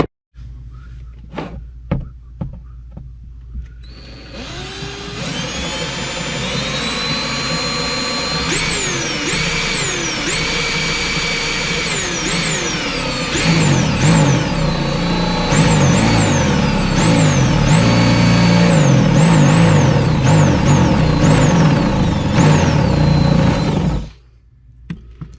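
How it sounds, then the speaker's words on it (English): A power drill drilling a hole in an RV for a light switch whines steadily for about twenty seconds, its pitch rising and dipping as it bites, loud and close, with no talking. "we're going to go ahead and drill a hole that will allow us to put the switch in"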